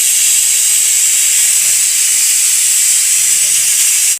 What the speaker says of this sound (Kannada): ಕುಕ್ಕರ್ ಲಿಡ್ ಮುಚ್ಚಿಬಿಟ್ಟು ಹೈ ಫ್ಲೇಮಲ್ಲಿ ಇಕ್ಕಿ. ಗ್ಯಾಸು ಹೈ ಫ್ಲೇಮಲ್ಲಿ ಇದ್ದು 2 ವಿಷಲ್ ಹೊಡಿಸ್ಬಿಡಿ.